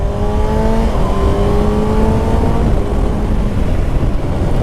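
A 2021 Kawasaki Ninja ZX-6R 636 sport bike races, its engine a loud, close droning roar that holds a steady buzzing pitch, with wind noise throughout and no voices.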